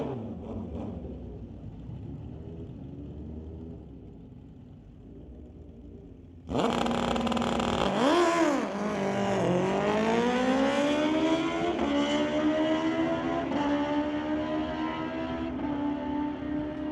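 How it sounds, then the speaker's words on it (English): A Suzuki Gixxer and a 2012 Kawasaki drag race at a street-legal night at Mission Raceway Park: a steady idle, then a sudden loud launch into high-pitched engine wails climbing through repeated gear shifts, sustained and fairly close. "The Gixxer Suzuki from Mass Cycle going up against a 2012 Kawasaki."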